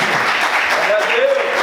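Congregation applauding in a church service, steady clapping lasting under two seconds with voices and a bit of cheering mixed in.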